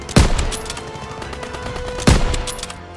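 Heavy gunfire from a World War II battle in the video game Call of Duty: WW2, with two loud close shots or bursts about two seconds apart over a continuous rattle of distant gunfire.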